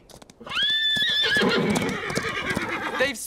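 Wild horses whinny loudly during a roundup, a long rising neigh followed by rapid galloping hoofbeats, all close and vivid.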